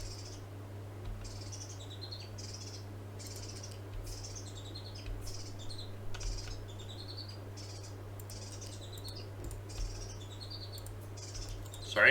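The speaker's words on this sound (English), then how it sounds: "Sorry, there's a bird outside my window." A bird chirps outside a window in repeated bright, rapid phrases throughout, fairly faint over a steady low indoor hum.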